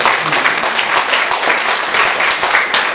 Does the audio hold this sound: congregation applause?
yes